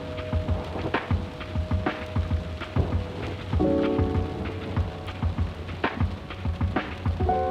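Steady rain patters on a surface while thunder rumbles and cracks at intervals, with sharp drops and crackles scattered throughout.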